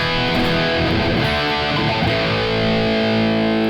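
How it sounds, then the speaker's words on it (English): Electric guitar played through a Marshall DSL 20HR head set at about volume seven, with no pedals and fed into a Two Notes Captor X, giving a loud, dense, sustained distorted tone with ringing chords throughout. "that's the sound of my Marshall head into the Two Notes Captor X."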